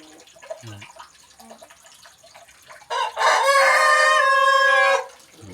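A Phu Phan black chicken rooster lets out one loud, drawn-out crow close by, after a few soft, scattered clucks and rustles from the flock.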